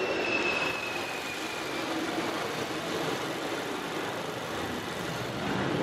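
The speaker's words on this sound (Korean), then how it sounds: "그럼 바로 영상으로 엔진 소음 한번 담아보도록 하겠습니다." A 2018 imported sedan's engine idles with the hood open, a smooth, steady hum and a broad, even rumble from close by. No voices.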